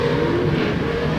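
Pro 2 short course race trucks accelerate at the 2022 Great American Short Course at SBC Fairgrounds, their engines giving a loud, continuous roar for a brief moment.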